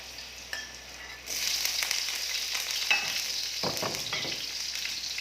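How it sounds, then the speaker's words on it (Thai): Pork belly pieces stir-fry over medium heat in a pan, giving a steady close sizzle that swells louder after a moment, with occasional scraping of a utensil against the pan. "เอาใส่หมูสามชั้นไปคั่วก่อนนะคะ"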